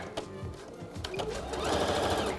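A domestic sewing machine stitches the pocket bag of a pair of trousers about half a centimetre from a fold, running in short bursts at first and then settling into a steady, louder whir.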